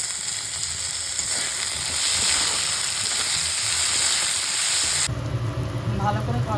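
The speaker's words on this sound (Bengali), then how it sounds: "একটা ছোট সাইজের টমেটো কুচি, স্বাদ অনুযায়ী নুন দিয়ে এটাকে ভালো করে কষিয়ে নেব।" Small chopped tomato and salt sauté in a pan for bindi masala, making a continuous close sizzle with occasional stirring before the sound shifts abruptly near the end.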